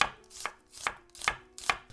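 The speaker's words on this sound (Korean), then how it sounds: "양파를 빨리 썰어서" A knife chops an onion on a cutting board in quick, regular strokes, five crisp thuds in under two seconds, close and clear with no voices.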